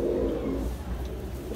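Pigeons of a white-cumin-colored Madrasi breed coo softly in a low, throaty burble, with a few close calls fading in and out at moderate volume.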